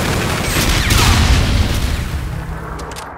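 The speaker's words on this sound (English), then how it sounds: "Enemy Trinity rocket in use" Trinity rocket explosions in Call of Duty: Infinite Warfare, a loud close barrage of booming blasts that rumble together into one rolling roar before fading.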